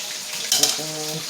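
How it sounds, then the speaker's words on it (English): Jamaican turn cornmeal being stirred and pressed in a pot, giving a steady soft scraping hiss with a couple of brief sharper knocks, close and alone. "Keep stirring and press."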